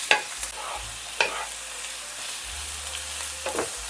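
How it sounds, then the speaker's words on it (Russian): Onion and garlic frying in a pan, a steady soft sizzle with a few sharp stirring scrapes scattered through, close and alone without any talk. "Добавляю лук и обжариваю лук до прозрачности и легкого золотистого"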